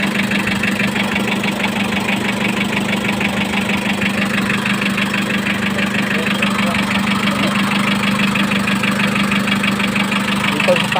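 A repaired Mazda R2 engine idles steadily and loudly up close, with a constant low hum and a fast, even mechanical ticking throughout.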